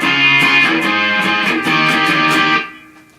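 An electric guitar with a distorted tone plays an intro riff, a short burst of chugging notes that cuts off and fades near the end, close and loud with no talking.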